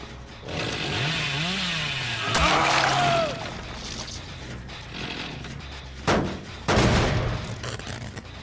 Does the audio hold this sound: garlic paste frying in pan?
no